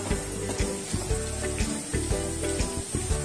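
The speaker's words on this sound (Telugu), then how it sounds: "ఆయిల్ హీట్ అయిన తర్వాత మనం కట్ చేసి పెట్టుకున్న కాకరకాయని యాడ్ చేసుకోవాలి" Cut bitter gourd hits hot oil in a pan, a steady loud sizzle with rhythmic clatters of stirring, close and continuous with no talking.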